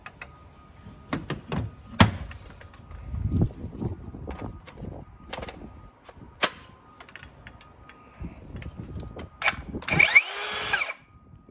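A Metabo HPT 36V MultiVolt cordless rear-handle circular saw spins up briefly without a blade fitted, heard as short high whirring bursts among handling clicks and knocks, close by.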